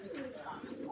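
Madrasi pigeons with feathered feet coo softly in a brief, close burst of low throaty calls.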